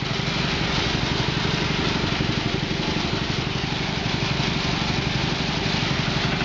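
A cold truck engine runs at a steady idle, a loud, continuous, slightly rough rumble with an even pulsing beat, alone with no talking.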